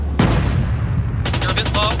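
Rapid gunfire in a military video game, a heavy blast followed by a fast, loud burst of repeated shots crackling close by.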